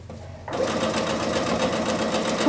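A new household sewing machine starts up and runs at a steady, fast stitching rhythm, a loud close mechanical whirr that holds constant without pause.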